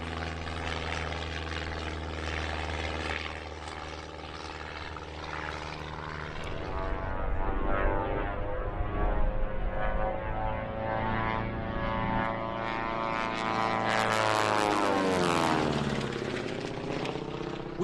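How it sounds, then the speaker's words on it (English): A 1940s Calair Model A2 two-seat utility propeller plane at an air show drones loudly overhead, its engine pitch bending as it passes and sweeps away, with no one talking. "This aircraft caused a stir, a Calair Model A2, a 2-seat utility aircraft of which just 16 were built back in the 1940s"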